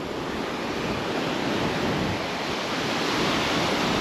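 Surf washing steadily onto Red Cliff Beach near Arno Bay, a continuous broadband roar of breaking waves with some wind, fairly loud and unbroken, no voices.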